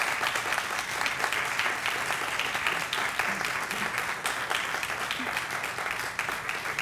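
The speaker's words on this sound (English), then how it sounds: "we applaud him just the same" Audience at a St. Lawrence graduation ceremony applauds a scholarship recipient, a continuous, even wash of many hands clapping that holds steady throughout the stretch.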